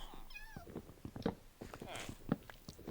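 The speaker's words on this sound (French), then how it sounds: "Un autre chat?" A cat meows in Minecraft, giving a few rising and falling game mews over about three seconds at moderate level. Some brief clicking game sounds and faint background noise mix in.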